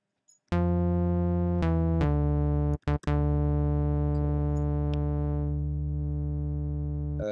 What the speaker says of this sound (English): maybe this triangle will be fine.